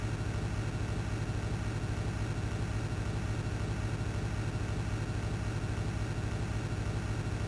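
A bus engine in the driving game Desert Bus hums as the vehicle cruises, producing a constant, monotonous low drone at an even level with no changes in pace.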